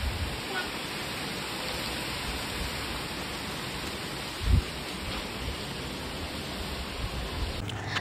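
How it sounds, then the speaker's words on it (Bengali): Steady rain falls during a storm, a soft continuous hiss with one brief nearby thump partway through and no clear voices over it. "এই যে বৃষ্টি হচ্ছে।"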